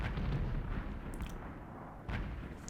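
Tank guns firing in the World of Tanks video game, heard as a heavy booming blast with a rumbling tail and a second distant report, over steady low engine rumble, with no talking.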